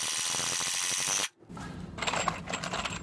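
A power driver sinks long screws through a shim into a Simpson universal foundation plate, a close, loud whirring burst that cuts off sharply, followed by lighter ratcheting and rattling sounds.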